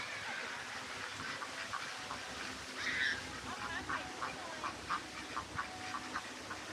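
Ducks quack in short bursts at a distance in Chachoengsao, Thailand, faint and scattered, with soft talking and outdoor noise around them.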